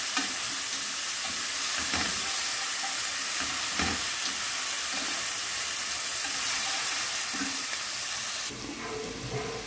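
Bacon with onion and two garlic cloves frying in a pan, a loud continuous close sizzle with scraping stirs throughout and no talk.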